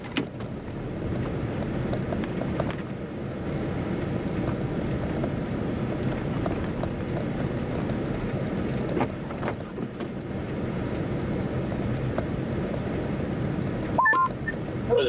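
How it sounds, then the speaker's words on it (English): Strong blizzard wind in Michigan buffets the microphone in a continuous low roar, surging in gusts with a few brief knocks and rattles near the end. "You just get those freaking strong gusts that just come out of nowhere"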